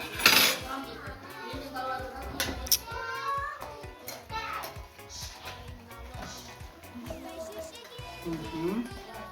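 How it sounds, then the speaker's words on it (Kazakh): A spoon clinks and scrapes around a container in quick, uneven strokes, while children and an adult talk nearby. "Кәнеки балалар, мынаны сендер енді қасықпен араластыр"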